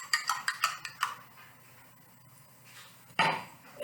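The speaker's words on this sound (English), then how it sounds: "Give it a little stir." A few quick clinks of a spoon stirring a cocktail of triple sec in a glass, light and close, then a quiet pause and a brief louder rustle near the end.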